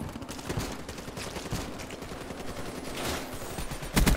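Rapid bursts of automatic gunfire from a gun in a first-person shooter match on the Redwood map, steady and dense throughout with a louder close burst at the end.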